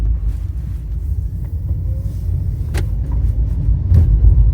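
A Nissan Leaf electric car with a repaired gearbox drives through a turn, giving a steady low road rumble and hum with no grinding heard.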